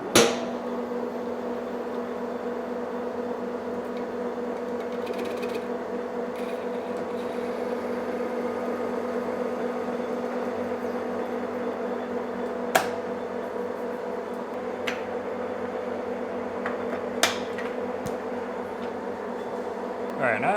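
A Monarch lathe faces off the end of a steel drawbar for a Cincinnati horizontal milling machine, giving a steady close motor hum and cutting whine with a few brief sharp clicks.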